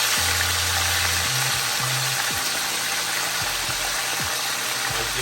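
Fish frying in hot oil, a ginger soy fried fish cooking in a pan, giving a steady broadband sizzle under a low humming drone, with a few soft knocks and clicks from the pan.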